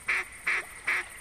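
Three evenly spaced nasal duck quacks from the hunting video game theHunter, clear and fairly close, each short and alone against a quiet background.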